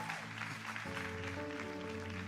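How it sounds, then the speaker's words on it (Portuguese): A church congregation applauds its media team, a steady wash of clapping spread over a sustained keyboard-style musical backing that continues throughout. "Vamos aplaudir o pessoal da mídia lá"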